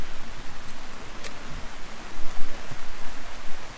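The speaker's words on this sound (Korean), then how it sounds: "저기 계속 비가 오지?" Steady rain patters and hisses at a campsite during wet-weather camping, a broad even wash of drops close by with no voices over it.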